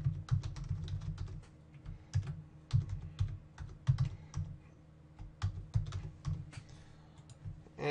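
Rapid clicking of a computer keyboard as an email address is typed, with brisk, irregular bursts of keystrokes close by and no talking.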